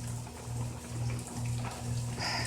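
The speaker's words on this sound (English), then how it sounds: "But it's still raining." Soft, steady rainfall patter from Hurricane Florence with a faint low hum underneath, continuous and fairly quiet throughout.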